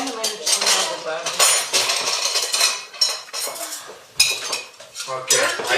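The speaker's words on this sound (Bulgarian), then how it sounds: "Окей, айде да отидем да занесем чиниките сега." Cutlery and plates clatter continuously, with dense metallic clinks and scraping of dishes being handled and stacked close by, busy and fairly loud throughout.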